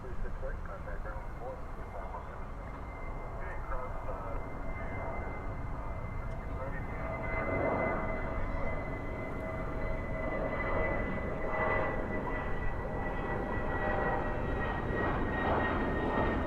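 Aircraft departing at DFW airport at night, a broad distant engine roar that swells gradually and holds steady, with a person talking over it.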